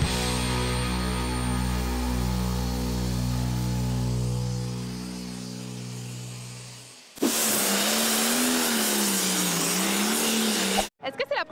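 A tractor-pull engine revs hard at a competition, a loud sustained roar that climbs in pitch, drops away, then surges back with a wavering, strained tone.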